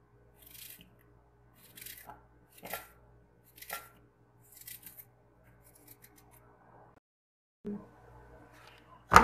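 Knife slicing apples into small pieces on a board for a creamy fruit chaat, heard as a series of short crisp cuts in irregular rhythm, close and fairly quiet, with a brief louder knock near the end.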